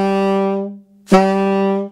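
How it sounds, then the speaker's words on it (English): A saxophone sustains a single held note, then after a short gap a second note starts with a sharp, percussive tongued attack, a bright ping at the onset before the tone rings steadily, loud and close. "a real sort of ping or a very percussive thing that happens on the beginning of the note"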